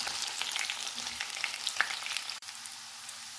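Potatoes stir-fry in a pan with a bright, steady sizzle and light scraping from the spoon. Sound is close and continuous, with a brief dropout near the end.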